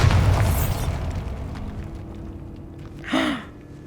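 A Bombarda blasting spell in Hogwarts Legacy bursts with a deep, close boom that rumbles and fades, followed later by a brief whooshing magical swell against quiet ambience.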